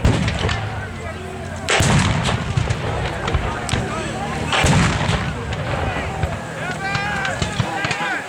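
Civil War reenactment of the Antietam morning battle, with Union Springfield and Confederate Enfield rifled muskets firing loud, close cracks and ragged volleys over a constant crowd and battlefield din, with talk heard throughout.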